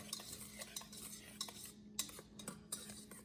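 A spoon stirs salt into a chocolate cream pie mix in a bowl, making quiet, rhythmic scraping and clinking strokes close by, with no talk.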